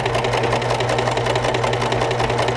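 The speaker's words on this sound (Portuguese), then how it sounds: "Vamos continuar aqui no nosso overlock" An overlock sewing machine stitches along the edge of a capitonê tire-style cushion, giving a loud, steady, close mechanical whir with a fast rattling rhythm that runs unbroken throughout.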